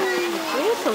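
Water splashing and trickling through outdoor children's play channels at a waterside spot in Norway, a steady near wash under a child's and adult's voices.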